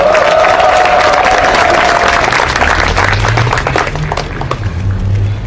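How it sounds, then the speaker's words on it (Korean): Big applause from a large congregation at a Catholic protest mass in Jeonju greets a priest, a loud, continuous roar of clapping that holds steady, with a sustained tone at the start and a low hum near the end. "큰 박수 쳐주세요"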